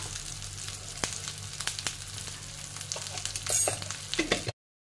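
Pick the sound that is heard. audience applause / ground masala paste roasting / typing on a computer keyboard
ground masala paste roasting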